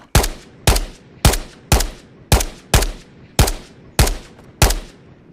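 Nine evenly spaced gunshots in the VR shooter Ghosts of Tabor, each a sharp loud crack with a short ringing tail, fired in a steady rhythm about half a second apart, close with no talk.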